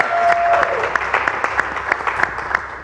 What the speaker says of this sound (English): That's another applause for me.